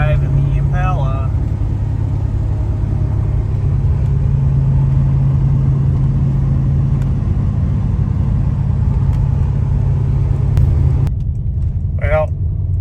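A Chevrolet Impala's engine gives a steady, low rumble from inside the car while driving, holding constant for the whole stretch, with brief voices over it.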